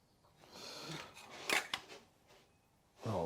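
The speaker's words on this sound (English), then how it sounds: "I've decided to cut a hole in this as well" Cutting a hole in a part for a BMW GS1150 motorcycle project, heard as scraping, snipping noises close by, with two sharp bursts midway and a louder rasp at the end.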